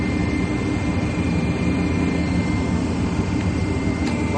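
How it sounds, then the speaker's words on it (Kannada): A wood cutter machine driven by a 5 HP Kirloskar motor runs with a loud, steady, dense mechanical roar and drone throughout, close by and without speech. "5 HP ಕಿರ್ಲೋಸ್ಕರ್ ಮೋಟರ್."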